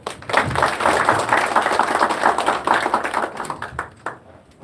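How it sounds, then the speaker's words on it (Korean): A crowd at a Korean labor union federation's founding assembly claps steadily and loudly for several seconds, dense applause that thins out toward the end. "힘찬 박수로 모시겠습니다"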